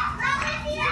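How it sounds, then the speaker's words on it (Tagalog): Children play noisily nearby, a dense, steady wash of overlapping young voices and shouts with no pauses, loud and close throughout a brief burst. "Dahil sa mga ingay ng mga bata,"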